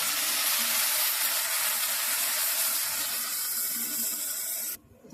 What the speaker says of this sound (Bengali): চাল ভাজা হয়ে গেছে, এখন একটু গরম জল দিয়ে দিচ্ছে, পরিমাণ মতন জল দিয়ে দেবে।